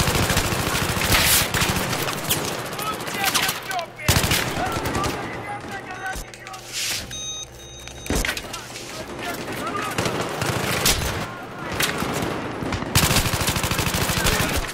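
Bursts of automatic gunfire and rifle shots from a Battlefield 3 multiplayer match, loud and close, firing in rapid volleys with brief gaps, mixed with explosions and game noise.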